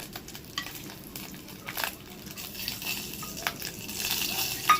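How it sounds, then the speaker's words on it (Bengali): Dried red chilli, cinnamon and cardamom spluttering in hot oil for a Durga Puja thali, a soft continuous sizzle with a few small pops and crackles, fairly quiet and without talk. "ওই তেলের মধ্যেই ফোড়ন দিয়ে দেবো দিয়ে দিয়েছি শুকনো লঙ্কা দারচিনি আর ছোটো এলাচ একসাথে লঙ্কাটাকে ফাটিয়ে দেবো"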